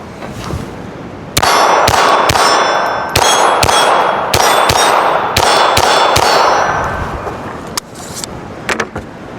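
A Ruger Mark IV 22/45 Tactical pistol fires at steel targets, with about eight sharp reports, each followed by a ringing metallic clang, in an uneven rhythm before the shooting stops.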